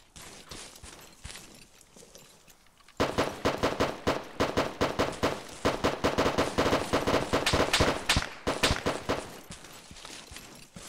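Rapid heavy automatic fire in the video game ARMA 3 by a small town, loud sustained bursts close by after a quieter start, then tapering off.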